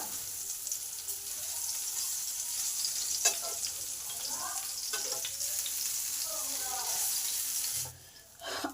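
Eggplant slices fry gently in a pan, making a soft, even sizzle with a few clicks as they are turned. The sound dips sharply near the end.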